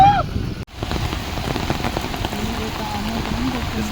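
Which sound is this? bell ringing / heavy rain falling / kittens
heavy rain falling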